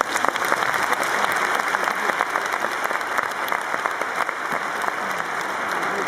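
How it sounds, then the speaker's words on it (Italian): Loud, continuous audience applause fills the room at an Italian testimonial talk, a dense and even wash of many hands clapping with no voices over it. "Io vorrei un applauso per Silvia e Davide."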